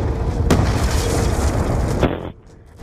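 A grenade goes off in Call of Duty's Nuketown zombies mode, a loud booming blast with rumbling debris, a sharp crack partway through and another before the roar cuts off abruptly.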